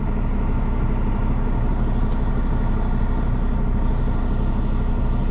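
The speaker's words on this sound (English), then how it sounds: "Just waiting for the truck to air up." A semi truck idles on the road while its air system builds pressure, giving a loud, continuous low engine rumble with a steady broadband hiss and faint higher whooshes near the end, no voices.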